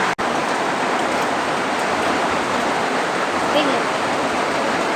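Heavy rain pours down steadily around a house, with rainwater running in, making a dense, even roar of falling water close by while a person speaks briefly over it.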